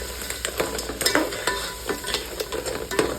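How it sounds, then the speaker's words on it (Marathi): Cleaned crabs sizzle as they are sautéed in hot oil, a spoon scraping and stirring through them in a quick, uneven rhythm of close, crackling strokes. "हे चांगलं तेलात परतून घ्यायचं आणि त्याच्यावर नांगडे आणि कुड्या खेकडे साफ केलेले टाकायचे"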